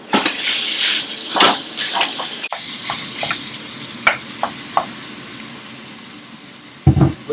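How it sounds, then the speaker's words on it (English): Minced meat hitting hot oil for a Bolognese sauce, a loud hiss with sharp crackles and bursts of stirring scrapes, close by and with no one talking. "the oil should be hot. We're gonna fry the minced meat."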